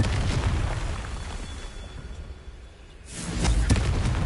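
Confringo fire-blast spell bursting with a heavy boom in the Hogwarts Legacy video game, a loud explosive rumble that fades into a lull before a second blast erupts.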